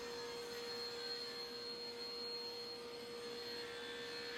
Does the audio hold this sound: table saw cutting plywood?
yes